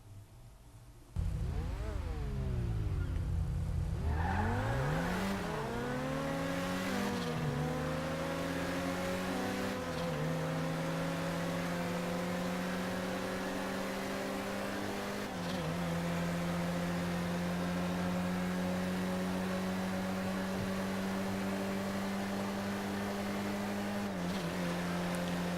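Two cars, an Elgi and a Turismo, race in the video game GTA V. A steady engine drone runs throughout, with rising revs that climb and shift through gears, loud and sustained with no pauses.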